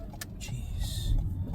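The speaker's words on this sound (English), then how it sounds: "These cars are moving so fast every time I go here" Cars rush past on a road nearby, a rising whoosh of tires and engine noise that peaks near the end, with faint clicks and no talk.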